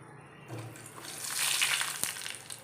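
Mustard seeds hit hot coconut oil in a pan and start to sputter, a soft sizzle that swells into a steady hissing fry with a faint sharp crackle, close by and with no talking.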